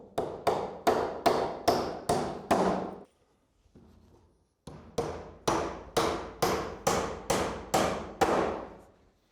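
Roof battens hammered onto the eaves: a brisk, loud series of evenly spaced nail strikes, a short pause, then another steady run of blows, with no talk.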